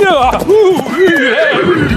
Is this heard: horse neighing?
yes